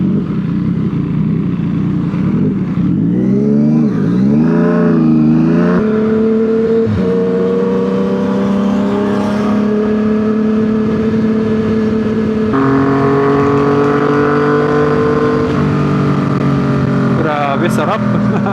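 Yamaha MT-09 motorcycle on a ride toward Marilaque, its engine revving loud and close as the pitch climbs and shifts through gears, with a steady wind rush throughout.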